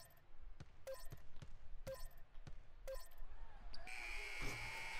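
Arena buzzer and ball bounces in the NBA 2K16 basketball video game: three evenly spaced beeps with sharp bounces, then a long loud buzzer sounding near the end, with faint crowd noise underneath.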